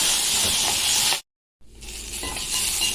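A spoonful of tomato paste hitting a hot pan of orzo, a loud steady sizzle and hiss that cuts out briefly, then returns and builds into continuous frying crackle, close and alone.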